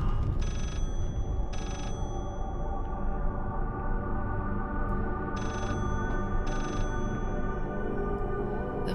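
Telephone rings in the Layers of Fear horror game: four short bursts, in two pairs, over a steady low ambient drone, moderately loud with no talking.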